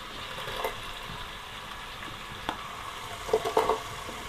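Carrots frying with chopped onion in a pan for a wedding-style mixed vegetable dish, giving a steady soft sizzle with a few louder crackling spurts and stirring noises.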